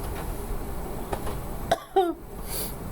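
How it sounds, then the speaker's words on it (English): A short cough in a quiet room with a faint steady hum behind it. Two quick harsh bursts sound close, followed by a brief tonal throat sound. "that melodious cough"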